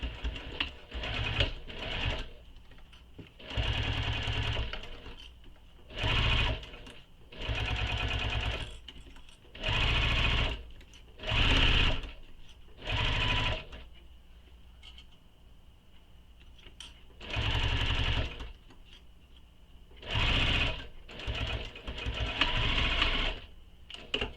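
A home sewing machine stitches a bag strap in repeated bursts of a second or two, each a loud steady mechanical whir, separated by short quiet pauses, with no voices.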